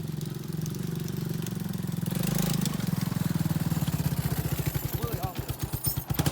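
A 1987 Yamaha Warrior 350 ATV engine runs nearby, a low chugging idle that swells into rapid, uneven single-cylinder putters and pops as the throttle changes, fairly loud and close.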